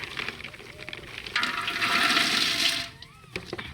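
Water is poured from a container, making a loud close gushing splash that runs for a couple of seconds amid outdoor village cooking noise, then trails off into smaller drips and clatter.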